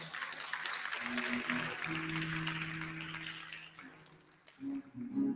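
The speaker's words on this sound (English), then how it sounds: "One more round of applause for Mr. Leo Gatson." An audience applauds at a talk event, first as a steady broad wash of clapping that gradually fades. Voices and a sustained tone come in near the end.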